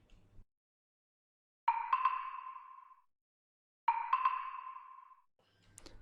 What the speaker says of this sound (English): Then comes the percussion.